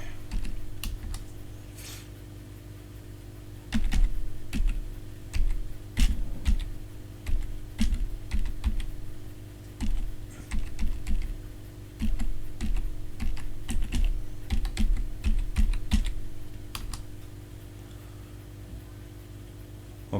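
Typing on a wireless computer keyboard, a steady run of quick, close keystroke clicks in irregular bursts over a low constant hum, with no talking.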